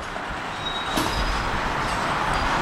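A Union Pacific or BNSF freight train slows down again, a steady broad rumble of rolling cars that swells slightly, with a thin high wheel squeal running through it.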